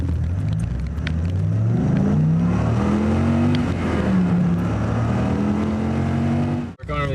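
A 1997 Dodge Viper GTS and its big torquey engine accelerate from inside the cabin, a loud low rumble climbing through several gears with shifts between, mixed with road noise and a brief gap near the end.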